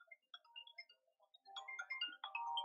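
A phone ringtone plays at night for an incoming call: a faint, melodic electronic tune of quick chirping notes that grows fuller toward the end.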